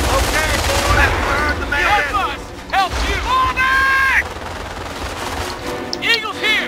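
Infantry gunfire in the Company of Heroes game, with repeated rattling bursts and shots over battle noise and whooshing effects while someone talks over it.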